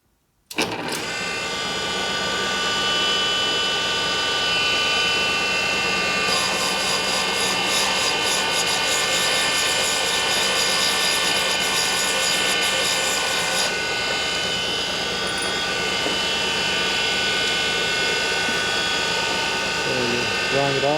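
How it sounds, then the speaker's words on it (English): Valve grinder cutting valves from a Harley-Davidson Twin Cam 103ci Dyna cylinder head, a steady loud mechanical grinding and whirring drone that runs throughout, with a higher rasping band partway through and someone talking over it. "So I'm going to go ahead and do here on the valve grinder"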